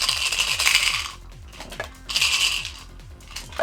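A handful of dice from the Roll for the Galaxy board game clatter and rattle onto a table in two close bursts, with lighter scattered clicks between them.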